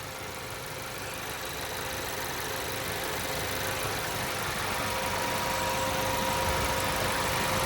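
A car engine held at a steady 2,500 RPM with all electronics switched off for an alternator and battery test, a constant mid-pitched drone that stays even and close throughout, with no talking.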